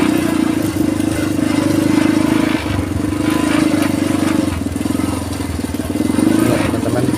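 Several motorcycles idle and rumble in a steady queue waiting to cross a narrow bridge on a rural route in South Sumatra, Indonesia, with a constant close engine drone and slight revving.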